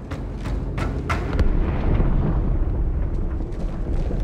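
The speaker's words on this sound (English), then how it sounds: "That explosion came from inside the Athens." Explosion in the Halo 2 video game, erupting inside the Athens, a space vessel: a loud, heavy rumbling blast with sharp cracks early on that rolls on as a sustained roar throughout.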